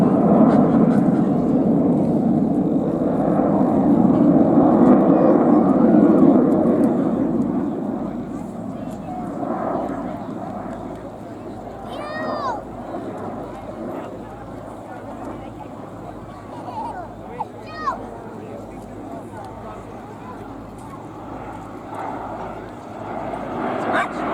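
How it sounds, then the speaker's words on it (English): A 1970 British Aircraft Corporation jet built at Warton, heard at an airshow as a loud, broad engine roar that swells early and then eases to a steadier, lower rumble, with speech running over it. "This particular aircraft, built by the British Aircraft Corporation at Warton in 1970"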